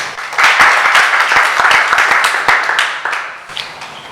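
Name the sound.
audience applause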